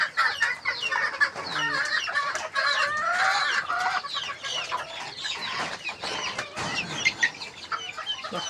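Several chickens cluck and murmur close by in an irregular, overlapping chatter, with a few sharper squawks standing out.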